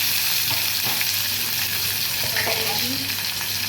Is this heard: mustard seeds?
yes